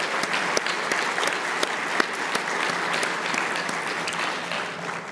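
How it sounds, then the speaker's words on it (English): Steady audience applause for the team at an annual conference wrap-up, a dense wash of claps with a few sharper individual hits, moderately loud and tapering slightly at the end. "please, a round of applause for them as well"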